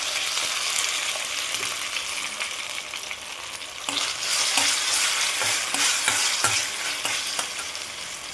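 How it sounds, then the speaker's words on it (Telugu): Cashews frying in a pan, then cooked rice stirred in for jaggery rice prasadam: a steady sizzle with scraping spoon strokes that become busier and louder partway through. "జీడిపప్పులు ఇలా ఎర్రగా వేగిన తర్వాత ముందే ఉడికించుకుని ఈ అన్నాన్ని కూడా ఇందులో యాడ్ చేసుకోవాలి"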